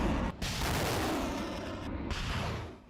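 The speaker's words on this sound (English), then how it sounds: "The launcher rumbles into the middle of the field and fires 4 rockets in quick succession." Truck-mounted rocket launcher firing in a field, heard as a sustained roaring blast with two brief dips as launches overlap, loud and close.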